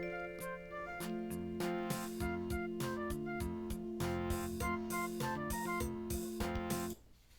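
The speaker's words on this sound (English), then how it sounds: "Guide BGM is basically little song things that come with Odemo, so that when you record it, it will play in the background" A guide BGM backing track bundled with a singing-synth voicebank recording tool, playing at 100 bpm. Steady, loud and alone, with a sustained tonal bed and regular percussive hits, ending abruptly near the close.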